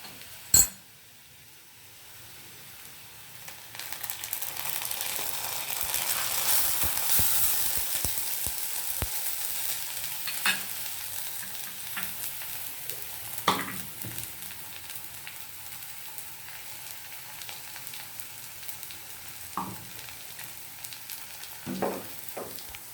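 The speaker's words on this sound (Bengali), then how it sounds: "এরপর আমি পোস্তটাকে ঢেলে দেব।" Poppy seeds frying with golden-browned onions in a pan, a soft continuous sizzle that swells and then settles, punctuated by occasional clinks and scrapes of a utensil.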